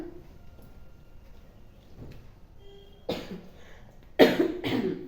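Two short, harsh coughs close by in an otherwise quiet room, with faint movement sounds before them.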